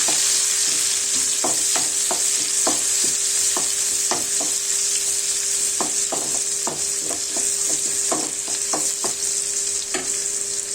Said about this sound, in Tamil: பூண்டு லைட்டாக ஃப்ரை ஆனதும் வெங்காயம் ஆட் பண்ணி வெங்காயத்தை கொஞ்சம் நேரம் வதக்கிக்கலாம்.